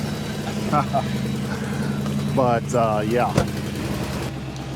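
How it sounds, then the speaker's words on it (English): Car engine idling with a slight exhaust leak, a steady low mechanical hum running the whole time while someone talks briefly over it. "If you listen close, there's a slight exhaust leak"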